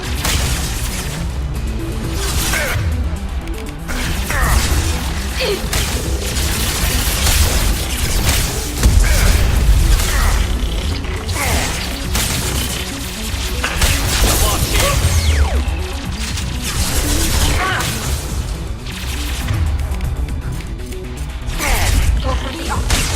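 Dense Mass Effect 2 combat, with constant close gunfire, heavy impacts and booming blasts layered over a rumbling low drone for over twenty seconds, loud throughout.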